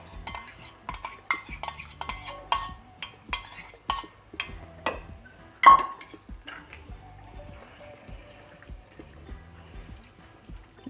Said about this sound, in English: This should also be stirred properly